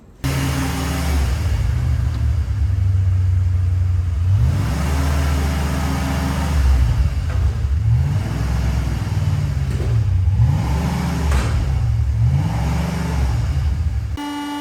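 A Ford Fox-body Mustang with a 5.0 V8 rumbles loudly and close as it is driven onto a ramp, the engine idling and revving in repeated rising and falling swells.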